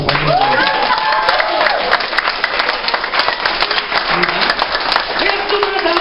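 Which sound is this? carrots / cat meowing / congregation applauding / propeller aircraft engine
congregation applauding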